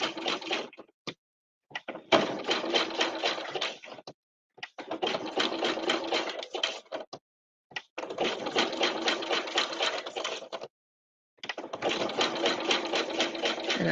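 Sewing machine stitching a decorative stitch with white thread on reverse appliqué fabric, running in four steady rapid bursts of a few seconds each, separated by short pauses, close and alone with no talk.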